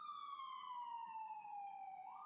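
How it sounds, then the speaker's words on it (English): A distant emergency siren wails in a long, slowly falling tone, faint but clear over a quiet background, with no talking. "that siren is answering that call"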